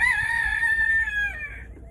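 A backyard farm rooster gives a single clear, close crow that rises and then trails off over quiet outdoor background.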